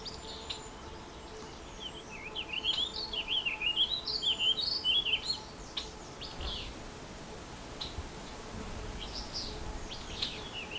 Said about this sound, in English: And a song sparrow.